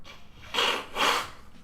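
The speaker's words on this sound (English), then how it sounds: "It wouldn't be an Edit 320 stream if I couldn't blow my nose disgustingly into the microphone" Two loud, breathy nose blows land right against a live-stream microphone, each a broad rough burst lasting under half a second, separated by a short pause.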